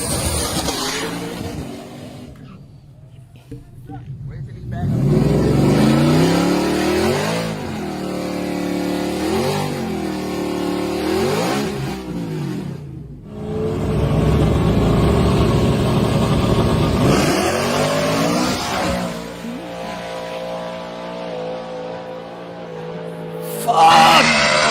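Ford F150 truck with a Midnight Odin powertrain drag racing a built turbo Jeep SRT, deep engines revving hard in repeated rising sweeps, then a long loud pull, with roaring exhaust dominating and brief crowd noise at the end.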